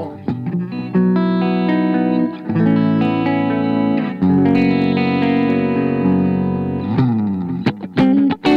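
Reverend Bayonet electric guitar switched to the middle pickup position, strumming ringing chords with brief pauses and a few short picked notes, loud and close with no voices.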